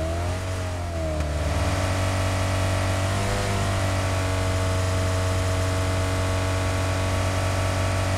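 A Koenigsegg engine in a video game revs and then holds a loud, steady mid-pitched drone, with a rising pitch shift near the start and no talking.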